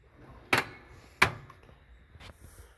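A junk drawer in a tool box slides open with a sharp clunk, followed by a second similar thunk a moment later and a faint third knock, close and clear with no talk.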